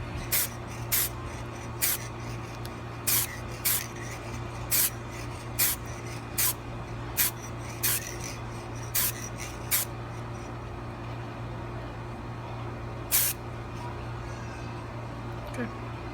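A spray can puffs short bursts of paint onto a custom Funko Pop figure, about a dozen quick hisses in an irregular rhythm over a low steady hum, close by.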